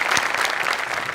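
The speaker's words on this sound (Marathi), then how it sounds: "जोरदार टाळ्या." A studio audience at a comedy show breaks into dense, even applause, a brief steady burst of many hands clapping at once.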